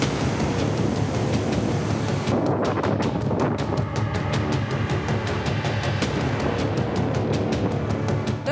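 Floodwater of the swollen Krishna river during heavy monsoon rain in Karnataka, a loud, steady rushing roar with broadband surging texture and repeated sharp crackling bursts, with no voices.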